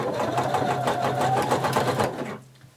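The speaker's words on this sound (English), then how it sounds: "And I'm going to be using a very wide zigzag stitch." A sewing machine runs a very wide zigzag stitch along swimsuit elastic butted against the fabric edge, a close, steady rapid needle chatter for about two seconds before it stops.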